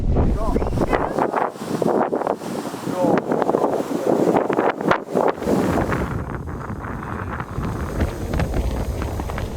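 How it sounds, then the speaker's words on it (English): Strong, gusty wind roars and buffets the microphone on a walk beside the St Helens (Sankey) Canal near Fiddlers Ferry, loud and close with rumbling surges, and people talk through part of it. "The wind nearly blew you off the edge"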